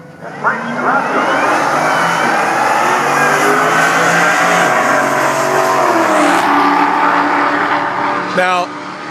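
Drag racing cars, one of them supercharged, launch down the strip at the Mopar Nationals at Englishtown Raceway Park in New Jersey, with a loud, sustained engine roar that rises and fades as they pull away.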